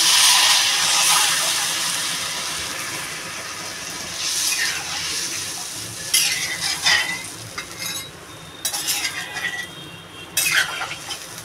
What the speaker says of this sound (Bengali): আমি এবার পরিমাণ মতন জল দিয়ে দেবো।